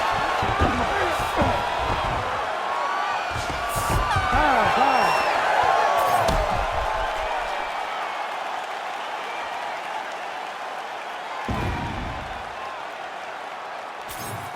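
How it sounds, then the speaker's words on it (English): A crowd in the UFC 5 video game cheers and applauds, a loud sustained roar with scattered whoops that slowly fades, while voices talk over it and a few sharp thuds break through. "the crowd voicing its appreciation after that crazy sequence in the previous round"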